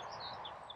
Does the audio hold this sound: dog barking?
no